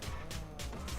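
A racing video game car drifts around a corner with a loud, steady engine roar and surging tire noise that pulses in quick waves, heard close and alone.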